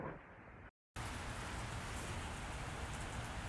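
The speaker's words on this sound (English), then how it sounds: "right now it is raining" Heavy rain pours steadily outdoors, heard from under a shelter as a dense, continuous hiss that fills the whole clip after a brief dropout.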